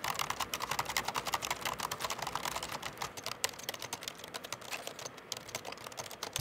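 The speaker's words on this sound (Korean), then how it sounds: "타건감은 전형적인 펜타그래프의 가볍고 부드러운 느낌" Rapid, continuous typing on a Hansung pentagraph keyboard, with dense, light key clicks heard close and alone.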